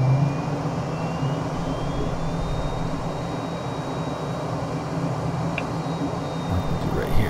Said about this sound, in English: flying the F-35B is not really like any other plane because you can pretty much hover anywhere